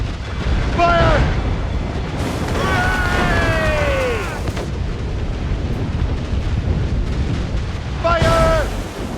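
Ship cannons fire a broadside at a Leviathan in Assassin's Creed Rogue, heavy booming blasts rolling over continuous sea and battle noise while voices shout over the fight.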